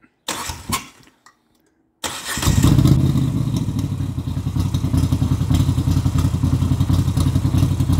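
A Moto Guzzi V7 850 with a custom exhaust cranks on the starter, falls silent, then fires up on a second try and settles into a loud, lumpy, rhythmic idle.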